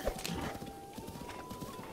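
Horse hooves clip-clop steadily in Zelda: Breath of the Wild, a fairly quiet, continuous patter of game footsteps with a faint tonal hum underneath.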